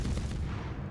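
Destroyer gunfire in a World of Warships naval battle, a short deep booming report with rumbling low-end decay, loud and close, lasting under a second.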